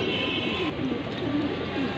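Racing pigeons coo in a few soft, low, rolling calls close by, set over a steady background hum with no talk.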